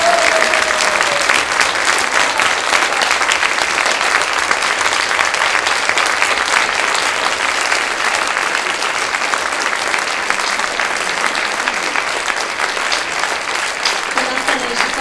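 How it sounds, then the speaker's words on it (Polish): An audience at a conference claps for the speakers: loud, dense, sustained applause that runs unbroken for fifteen seconds, with crowd voices faintly mixed in. "wielkie oklaski dla tych osób."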